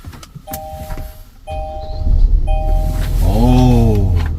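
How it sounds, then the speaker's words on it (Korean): A Kia Mohave sounds a few dashboard warning chimes, then its engine cranks and catches, settling into a loud, close idle. "시동 한번 틀어보겠습니다."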